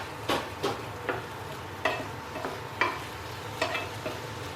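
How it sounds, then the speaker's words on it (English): Vegetables tossed into a pan with steak drippings sizzle under repeated stirring, with sharp scraping strokes of a utensil against the pan recurring at an uneven rhythm over a steady frying hiss. "I'm going to throw all of these vegetables, just toss them in to my pan"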